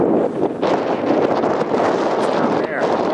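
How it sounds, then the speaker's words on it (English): Strong wind on a mountain buffets the microphone in a steady, loud roar, with gusts rising and falling throughout. "Here it's very windy."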